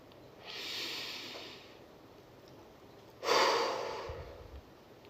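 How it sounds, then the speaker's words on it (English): Two slow, deep breaths close to the microphone, a long inhale followed by a stronger, breathy exhale, heard alone in a quiet room. "Let's take a deep breath on that one."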